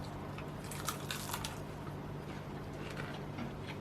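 Someone bites into a homemade gluten-free onion ring, giving a few close, quiet crunches at a low level with no talking.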